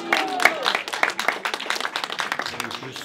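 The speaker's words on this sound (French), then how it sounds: "vous pouvez les applaudir" A crowd at the inauguration of a village café-restaurant applauds its new managers, with lively, uneven clapping mixed with chatter and voices throughout.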